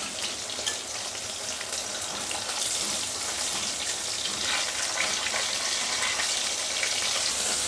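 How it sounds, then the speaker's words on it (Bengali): Pieces of catla fish fry in hot oil with a continuous loud, crackling sizzle that holds steady throughout, with no voices. "এখন আমি মাছটা ছেড়ে দেবো। মাছটাকে আমি খুব ভালো করে ভেজে নেব,"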